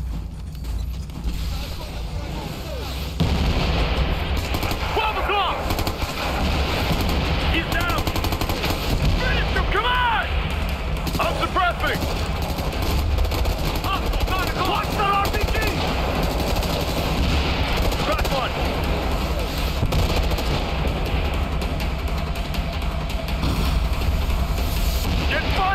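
Sustained gunfire from a tactical shooter video game, Ghost Recon Future Soldier, a loud dense roar of shots and mechanical clatter filling the whole stretch, with voices calling out over it.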